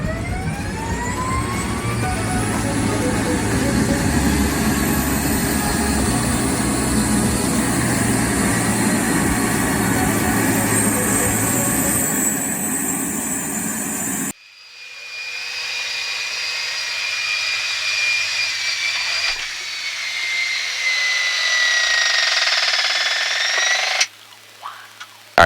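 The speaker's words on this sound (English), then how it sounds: "we're going to start getting these engines on" Blue Angels jet engines spooling up heard from inside the cockpit, a loud rising turbine whine over a roaring hum, then cutting to a quieter steady whine with shifting tones.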